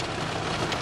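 Steady rain outdoors during a hunting trip, a dense broadband hiss with no distinct drops, constant and fairly loud throughout.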